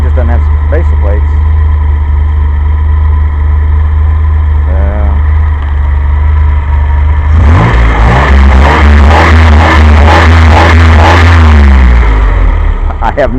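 A carbureted car engine with a mechanical fuel pump, just converted to a new distributor, fires up and revs in several loud bursts over a steady low idle rumble, with a voice talking earlier.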